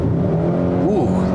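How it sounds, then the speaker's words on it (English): A 2021 Hyundai Sonata N-Line's 2.5-liter turbo four-cylinder engine accelerating, giving a steady loud drone from inside the cabin with a brief rising and falling pitch sweep near the end. "It's an augmented noise, obviously, but I'm okay with it because it is a nice sounding 4-cylinder."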